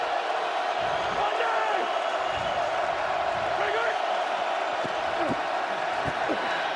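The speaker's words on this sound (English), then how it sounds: "the Seattle crowd starts to make noise" A Seattle stadium crowd at an XFL football game swells into a constant roar, with a commentator talking over the noise throughout.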